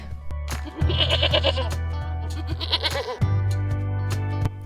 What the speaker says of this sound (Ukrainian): Коза мекає